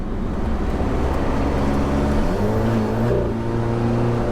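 An Alfa Romeo 4C Track Edition engine gurgles at low revs, a steady throaty rumble with a rising drone partway through, close and continuous with no talk.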